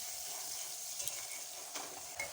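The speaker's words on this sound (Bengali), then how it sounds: "দেখো লঙ্কা আর পেঁয়াজটা ভেজে নিচ্ছি" Chilli and onion frying in a pan give a soft, steady sizzle with a few faint crackles, low and alone.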